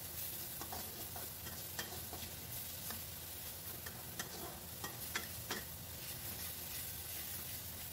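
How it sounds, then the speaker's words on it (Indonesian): Ground spice paste with anchovies sautés in a pan, a steady low sizzle broken by occasional light clicks of a utensil stirring, close and fairly quiet. "Ini kita tumis sampai benar-benar bumbunya itu matang ya teman-teman"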